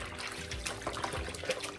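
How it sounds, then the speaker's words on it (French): Water running and splashing over kitchen towels as they are rinsed, a soft continuous trickle with small splashes, fairly close and fairly quiet. "C'est juste pour rincer et enlever l'excédent"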